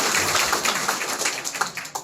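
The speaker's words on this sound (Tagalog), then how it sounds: "Yan na ba palakpak nyo?" An audience at a sales and mentorship event in the Philippines claps in a dense, sustained wash of many hands, fairly loud and close, with a few sharper individual claps standing out near the end.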